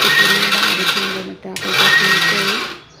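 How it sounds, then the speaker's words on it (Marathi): A mixer grinder whirs loudly as it grinds curry leaf chutney with salt, running in a steady burst, stopping briefly, then starting again before winding down. "थोडं थोडं मिक्सर थांबून थांबून फिरवा"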